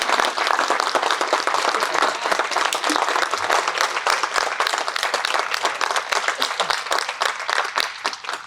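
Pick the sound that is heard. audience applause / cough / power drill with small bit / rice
audience applause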